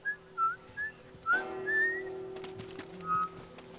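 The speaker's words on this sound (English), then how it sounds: "Ellie whistles the Uncharted theme" Ellie, a character in The Last of Us, whistles a short tune: several brief, clear whistled notes in a halting melody, close and unaccompanied over faint game ambience.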